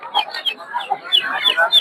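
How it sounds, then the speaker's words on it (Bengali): Chickens, including Brahma birds, cluck busily at a Narsingdi poultry market selling native ducks, chickens and quail, with close, overlapping bursts of clucking and squawks. "দেখতে পাচ্ছেন ব্রাহ্মা মুরগি, ফিলব্যাক মুরগি এদিকে"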